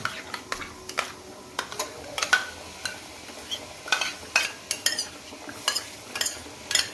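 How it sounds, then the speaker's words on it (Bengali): Fish curry being stirred in a pan as coriander powder and whisked yogurt go in, with repeated sharp clinks and scrapes of a spoon against metal over a faint sizzle. "ধনের গুঁড়া দিচ্ছি, দিয়ে ভালো করে নেড়ে টেড়ে তারপরে দইটা ফেটিয়ে মাছের ভিতরে দিয়ে দিচ্ছি।"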